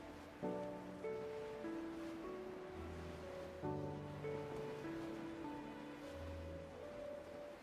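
Steady rain in Genshin Impact hisses continuously beneath a soft, sustained musical tone with gentle melodic notes.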